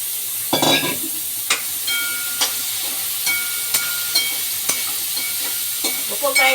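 Vegetables, including potatoes, fry in hot oil in a pan, giving a loud, continuous sizzling hiss. Occasional clinks and scrapes of stirring sound at irregular intervals close by.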